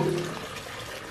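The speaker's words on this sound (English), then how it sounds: "Okay, the water's in." Water pours steadily into a portable backpack pool pond, a broadband rushing wash that stays even throughout at moderate level, with a brief tonal hum at the very start.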